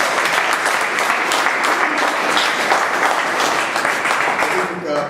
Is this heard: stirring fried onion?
no